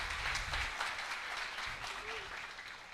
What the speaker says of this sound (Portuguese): pudesse dar uma salva de palmas para os nossos pastores